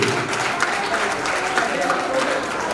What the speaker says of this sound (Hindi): सब लोग उनके लिए ताली जरूर बजा दीजिए